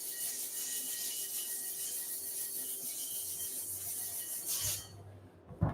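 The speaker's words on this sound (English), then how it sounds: "when it's scratched by a sandpaper, it gets rubbed better into the handle, the chalk" Sandpaper rubs chalk into a kettlebell handle with a soft, steady scratchy friction, faint and close, then a few brief louder scrapes and a knock near the end.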